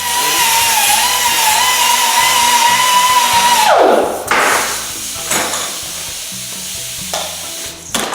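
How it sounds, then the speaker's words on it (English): TIG welding a gusset plate onto a motorcycle frame: a steady crackling hiss with a thin whine runs for about four seconds, then drops into short bursts of arc crackle with pauses between them. "I'm gonna go ahead and TIG that in"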